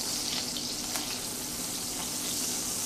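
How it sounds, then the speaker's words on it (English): Onions sautéing in a pan for pan-fried chicken, giving a steady, close, continuous sizzle with a faint crackle and no voices. "the first thing I'm going to do is saute my onions"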